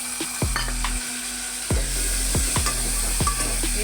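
Tomatoes are stirred into frying mutton curry in a metal pan: a constant sizzle with sharp, repeated spoon knocks and scrapes against the pan, close and clear, with no talk.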